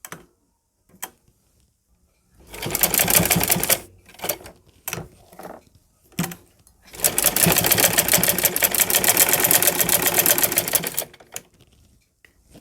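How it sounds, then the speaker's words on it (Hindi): A sewing machine stitches a flower latkan in two bursts of rapid, even clatter, one short and one longer and steady, broken by quiet pauses with faint handling noises. "अब हम यहाँ अपनी सिलाई लगा लेंगे"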